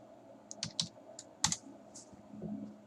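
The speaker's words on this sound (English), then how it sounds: "I'm just typing in random amino acid letters at this point." Clicks of typing on a computer keyboard while random amino acid letters are entered in a chemistry lesson. Irregular keystrokes sound at close range, some in quick pairs, over a quiet steady background hum.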